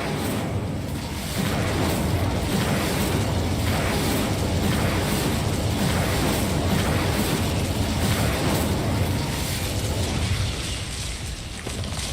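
Incendio fire spell in Hogwarts Legacy, cast against Devil's Snare, surrounded by a sustained, loud roar of bursting, crackling blasts and rumbling impacts that runs unbroken for several seconds without talk.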